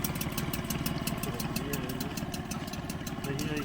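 A used outboard motor idles steadily and close, with an even, rapid chugging pulse and a faint knock throughout.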